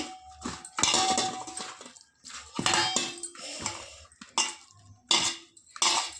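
A metal spoon mixes chili powder, turmeric and ginger paste into small fish for a Telugu fish curry. It scrapes and clinks against a steel bowl in irregular bursts, close and bright, with short pauses between strokes.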